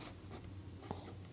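Pen scratching across paper during a Class 9 Hindi geometry lesson, a short run of light strokes over a steady low hum, with one slightly louder tap near the end.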